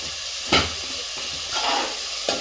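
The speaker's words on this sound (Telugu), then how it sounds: "కొంచెం సాల్ట్ వేస్తే బేగా ఆనియన్ అనేది, ఉల్లిపాయ అనేది బేగా వేగుతుంది." Onions frying with salt in a pan for chicken pulao, a steady soft sizzle and hiss with a few brief stirring scrapes and clinks, close and unaccompanied by talk.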